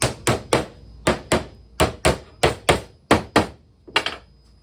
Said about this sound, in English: Just going to hammer it on.